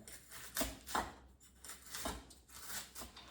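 A knife slicing celery thinly at a slant on a cutting board, several crisp chopping strokes in a loose rhythm, close and clear with no talk.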